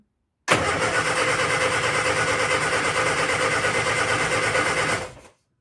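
A Morris Minor engine cranks on the starter in a workshop, a loud, steady, rapid churning that runs unbroken for about four and a half seconds without catching, then cuts off abruptly.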